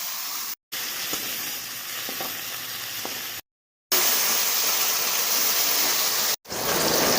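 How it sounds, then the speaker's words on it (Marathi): Onion and tomato frying in a pan for misal, a continuous close hissing sizzle that cuts out briefly twice, with a few faint stirring knocks and no speech. "टमॅटो पण असं चांगलं असं भाजून घ्यायचं आहे तळून घ्यायचं आहे कांदा आणि टमाटे चांगला असं भाजून घ्यायचं आहे लाल होईपर्यंत"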